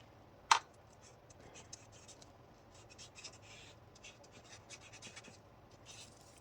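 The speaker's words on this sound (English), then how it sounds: "And then let's put the glue on here." Glue being spread on planner paper during a craft session, heard as a sharp tap followed by quiet, intermittent scratchy rubbing strokes close by, with no talking.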